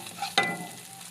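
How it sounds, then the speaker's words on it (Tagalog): Onion and garlic hitting hot oil in a pan for ginataang tilapia, a sudden loud sizzle burst that settles into a steady frying hiss, close and with no voices. "Lagyan na natin ang sibuyas at bawang."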